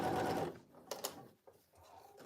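A sewing machine runs a basting stitch along a jacket in a short burst at the start, then falls to quiet handling noises and a couple of sharp clicks.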